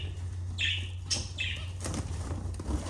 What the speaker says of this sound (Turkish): şimdi bülbülleri kanaryaları çıkarttık